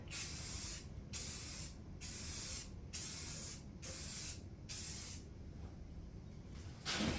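Repeated bursts of spray hiss from an aerosol can painting Farmall H tractor parts, about eight presses with brief pauses between, close and steady.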